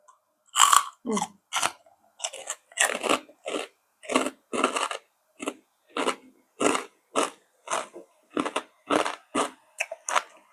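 Crispy fried pork rinds chewed close up, a steady series of loud crunching bites roughly every half second, continuing for about ten seconds with no talk.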